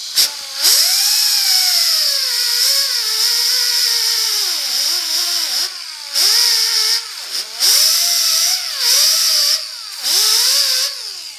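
Power tool grinding filler in the door jambs of a 1950 Chevy truck, a loud high whine that rises and falls as the load changes, cutting out briefly several times between bursts, with no talking.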